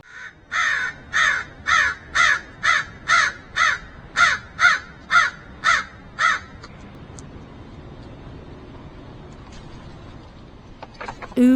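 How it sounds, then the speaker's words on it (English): Crows give a run of about twelve evenly spaced, loud harsh caws over six seconds, then fall silent, leaving faint background noise. "Whatever the crows are trying to say here,"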